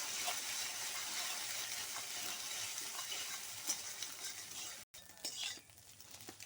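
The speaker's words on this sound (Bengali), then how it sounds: "এবার আমি তেলের মধ্যে দিয়ে দিচ্ছি ফেটানো ডিম।" Beaten egg fries in hot oil in a wok, a steady sizzle broken by scraping stirs of a utensil; the frying briefly cuts out and then returns more softly.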